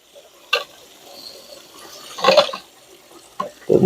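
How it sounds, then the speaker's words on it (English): Water from a kitchen faucet runs into a draining sink during a dishwasher installation, a soft steady flow with a few louder splashing bursts near the microphone. "Got the water still running there."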